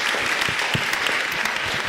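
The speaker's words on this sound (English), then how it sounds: "So please give them a bonus, a round of applause" Conference attendees give students a steady round of applause, an even wash of many hands clapping at moderate loudness with a faint voice underneath.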